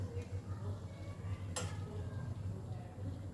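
Whole spices (bay leaf, dried chillies, cardamom, cinnamon stick, cloves) temper in hot oil and are stirred in a pan, with a soft low sizzle, light utensil taps and one sharp metallic clink midway.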